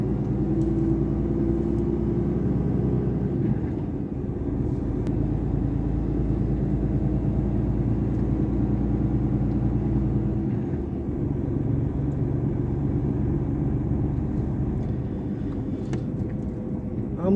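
A truck drives toward the weighing scales, its engine a steady loud low rumble and road drone that holds throughout with slight shifts in tone, with no voices over it.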